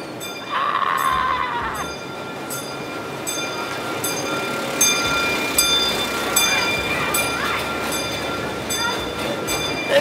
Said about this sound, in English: The train's coming into the station.